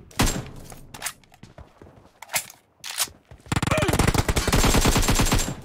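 Rapid bursts of automatic gunfire in the battle royale game PUBG, several short volleys and single shots early, then a long sustained loud barrage of continuous fire near the end.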